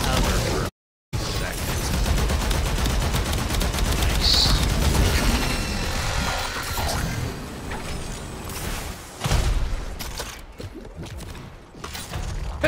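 Bursts of video game gunfire shooting at the player, rapid fusillades and mechanical clatter running through most of the stretch, fairly loud and dense, with voices talking over it.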